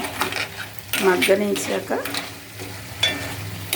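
Crabs fry in a masala paste in a pan and get stirred, with soft sizzling under repeated scraping and clinking of a spoon against the pot, all heard up close.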